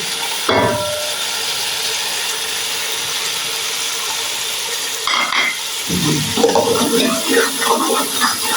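Water poured into a hot cooking pot bursts into sharp hissing and sizzling, fading to a steady background simmer before a second surge of bubbling crackle in a home kitchen.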